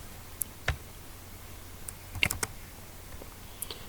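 Sparse, faint keystrokes as an amount is typed on a computer keyboard, a few isolated clicks spread across several seconds in a quiet room.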